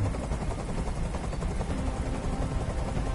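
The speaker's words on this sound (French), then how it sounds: "Je peux plus supporter ce bruit. Fais dégager cet hélicoptère maintenant." A helicopter hovering overhead in the video game Detroit: Become Human, a steady loud rotor roar filling the whole stretch with no pauses.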